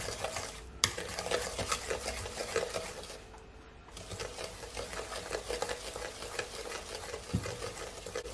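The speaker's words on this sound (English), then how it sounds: "Then I'm gonna add my granulated sugar. You wanna mix it all in." Granulated sugar being worked into Oreo chocolate chip cookie dough makes a continuous close churning and scraping sound, with a brief quieter dip partway through.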